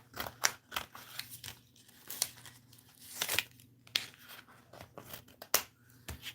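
Scissors snip repeatedly through paper at close range while a Christmas sign with evergreen boughs and IOD transfers is being made, the crisp cuts arriving in irregular bursts over a low steady hum.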